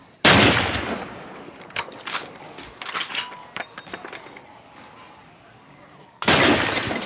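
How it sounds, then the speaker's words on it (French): Several sharp gunshots from a TV drama scene crack out irregularly over a few seconds, some close together, with faint background noise between bursts and a loud hit at the start and end. "tire je sais pas combien de coups de feu"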